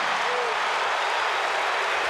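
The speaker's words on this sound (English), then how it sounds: "Luke gets that big United Center cheer" An arena crowd at the United Center roars and cheers for Luke Longley during a Bulls versus Pacers basketball game, a steady dense wash of crowd noise that fills the whole short stretch.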